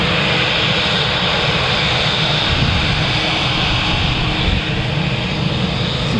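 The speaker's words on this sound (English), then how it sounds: "This one is a TUI 7879 Dreamliner going to Montego Bay." A six-year-old TUI Boeing 787-9 Dreamliner jet bound for Montego Bay, heard at Manchester Airport, gives a steady, loud, broadband engine roar that holds unchanged throughout with no talk.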